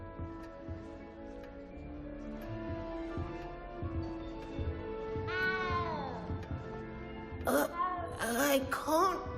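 A cat meows repeatedly in Hogwarts Legacy, a drawn-out mewl midway and then a cluster of loud, wavering cries and yowls near the end over soft game ambience and ticking.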